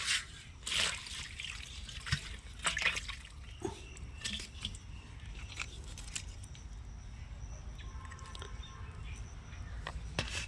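Soaking water poured off a batch of date fruits, a soft trickling and dribbling with scattered drips and splashes near the mic, some clearer pours early on, over a steady low background.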